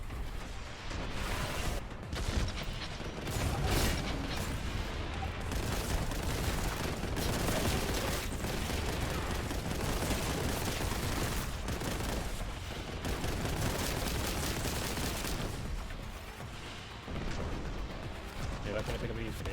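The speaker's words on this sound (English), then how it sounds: "I got the shotgun." Shotgun fire and combat noise in the Warhammer 40,000: Boltgun video game, a dense, loud barrage of repeated blasts and crashes that runs almost without pause throughout.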